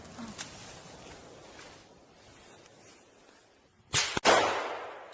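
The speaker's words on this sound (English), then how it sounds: "Another explosion, quite close actually." A close artillery explosion in combat footage near the Kursk border, heard as two sharp, loud cracks in quick succession with a rumbling tail after a quiet stretch of faint outdoor noise.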